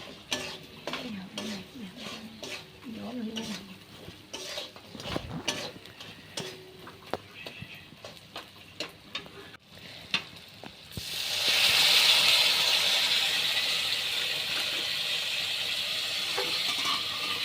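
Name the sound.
soybean being stirred and cooked with water in a pan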